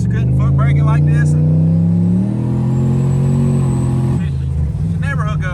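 A G-body car on a tire test, held on the foot brake and revved hard toward boost cut; a loud, steady engine drone rises in pitch and then drops, with talk over the start and end.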